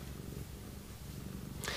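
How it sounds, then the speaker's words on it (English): A house cat purrs steadily up close, a low continuous rumble throughout, with a brief higher noise right at the end. "And of course, our cat here, TT, wanted to come say hello as we end this video"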